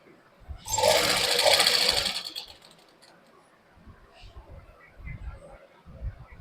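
A sewing machine stitches dress fabric for a salwar suit in one loud, fast, continuous burst of about a second and a half, then falls silent while a voice talks quietly.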